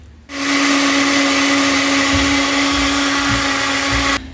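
A mixer grinder blending cluster bean chutney: the motor starts abruptly, runs as a loud, steady whirring drone with a constant pitch and faint grinding thuds for about four seconds, then cuts off.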